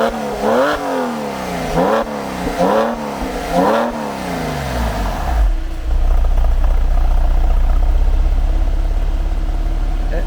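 A Porsche 996 Carrera with a special exhaust starts up, revving in several rising and falling surges before settling into a loud, steady, rumbling idle close by.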